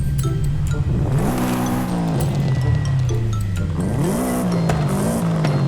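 A Subaru Impreza 22B STi engine in the video game Forza Horizon 5 revs hard and loud, pitch sweeping up and down through gear shifts, with a brief tire squeal, continuous and close.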